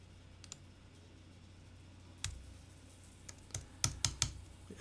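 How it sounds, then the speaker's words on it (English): Escape keys on a computer keyboard are pressed several times in quick, close clicks, mostly bunched toward the end, in an otherwise quiet room with no talking. "A couple of escape keys,"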